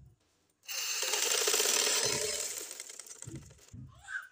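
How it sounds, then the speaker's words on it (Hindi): Sewing machine stitching fabric for trousers, a quick close mechanical whirring run of a few seconds that starts abruptly and slows, followed by a few soft knocks. "ये हमारी सिलाई लगती है"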